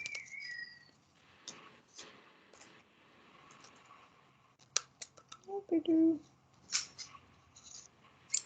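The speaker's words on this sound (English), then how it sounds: "I'm going to take my scissors and just kind of cut off the excess." Scissors snip off excess paper from an op art craft piece, a few close, soft cuts and clicks near the middle of the stretch amid light handling noise, with people chatting at points.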